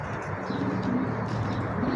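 Pigeons cooing in a loft, low soft repeated coos close by, with faint chirps in the background.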